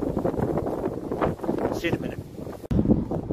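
Gusty wind buffets the microphone outdoors while fitting posts for a five-bar gate, a steady rumbling roar under a man's nearby speech, with a brief dropout near the end.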